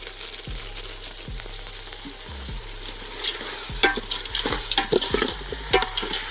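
Gunda fruit sizzling in a pan as it is stirred, a constant frying hiss broken by scraping strokes of the spoon that grow busier toward the end.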